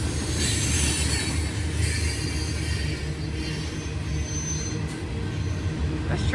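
A train rumbles steadily past at close range in Muncie, with loud, continuous wheel noise and a high metallic squeal of wheels on rails.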